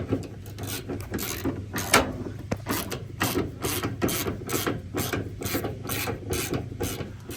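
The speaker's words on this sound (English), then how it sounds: "This just loosening by hand, no crazy force needed." Rusty bolts on the fuel tank of a Daily van are turned out by hand with a ratchet, a rapid series of clicking pawl strokes in bursts with short pauses, close and fairly loud, with nobody talking.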